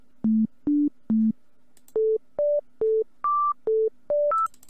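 Clean sine-wave trance synth plucks play a short melodic sequence, eleven pure tones stepping up and down in pitch, each note brief and evenly spaced.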